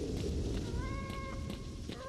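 A cat meows inside the S.T.A.L.K.E.R. Shadow of Chernobyl video game, a few drawn-out tonal cries heard over a dense, constant layer of game ambience and rumble.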